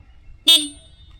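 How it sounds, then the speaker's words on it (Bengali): A Yamaha MT15 V2 motorcycle horn gives one short, loud, bright honk, close by, after a quiet moment and fading quickly. "সো এটা হর্ন"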